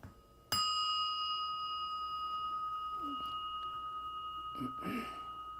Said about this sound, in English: I'll use the other bell.